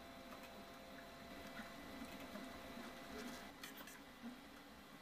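An Artillery Sidewinder X2 3D printer with a geared direct extruder runs a print job, giving a quiet, continuous whir of motors with faint irregular ticks and shifts in tone.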